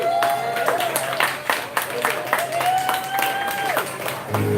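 A bar audience gives a short round of applause for a musician between sets, with moderate clapping running throughout and a voice or sustained tone carrying over it.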